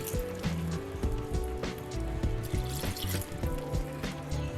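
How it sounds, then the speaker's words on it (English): Reserved water poured into a blender holding soaked Irish sea moss for a gel, a continuous splashing trickle with gurgling, close and fairly steady for several seconds. "I'm going to add about 1/4 cup of the water that I reserved."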